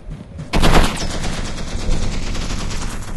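Rapid automatic turret fire in a video game erupts after a brief quiet start, a dense, loud continuous burst of gunfire that carries on to the end with slight swells.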